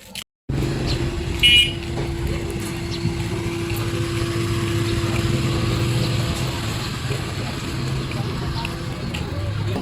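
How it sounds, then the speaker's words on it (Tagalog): A motorized tricycle engine running steadily nearby with a constant drone, a brief horn toot early on, and voices talking faintly in the background. "May tricycle na agad guys"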